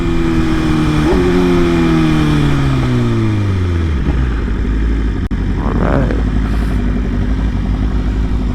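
A Yamaha R1 sport bike passes by on a cold road, its engine note rising and then falling away, heard over loud wind and riding noise from another motorcycle.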